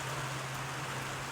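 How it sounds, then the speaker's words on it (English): Steady rain pours down outdoors, a dense even hiss with no breaks, close and fairly loud, no voices. "here comes the rest of that rain I was talking about."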